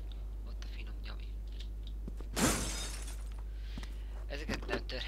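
Glass shattering in the video game Resident Evil 6, one loud, sharp crash with a short spray of tinkling fragments midway, set against low steady background hum, followed by faint clicks and small rattles.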